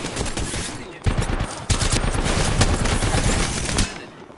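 Rapid automatic gunfire in Apex Legends, dense bursts of loud close shots rattling almost continuously, broken by a few short pauses.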